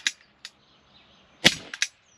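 Sharp, snappy shots from a UX SA10 blowback 4.5mm air pistol fired at a target about 8 metres away, several separate cracks with short gaps, the loudest two close together near the end, in a quiet setting.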